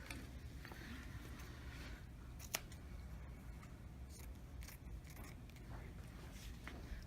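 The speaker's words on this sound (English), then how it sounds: "I'm just trimming all the extra out." Fabric being trimmed with scissors while draping a woman's top, heard as quiet, scattered snips and soft rustles, with one sharper click partway through, with no talking.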